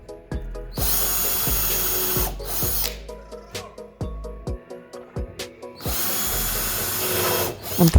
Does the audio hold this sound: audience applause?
no